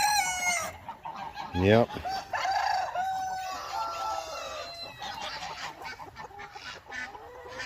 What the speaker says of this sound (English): snagging ducks and chickens and geese right in front of the big fluffy white dog